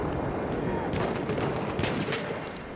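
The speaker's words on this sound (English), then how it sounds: "See what I'm trying to shoot at, Tish?" Gunfire in the video game Battlefield 1 crackles through a busy mix of battle noise, with several sharp shots bunched near the middle and end of a brief stretch.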